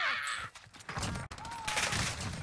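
Gunfire in Call of Duty Warzone on Rebirth Island, dense bursts of shots across the whole moment, loud and busy, with game effects and voice chatter mixed in.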